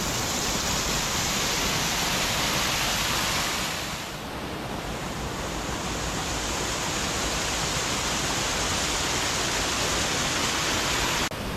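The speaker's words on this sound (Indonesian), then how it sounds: "Ini dia Tangkup Waterfall." Tangkup Waterfall in a humid, densely forested spot pours in a steady, loud, broadband rush that stays continuous and close throughout.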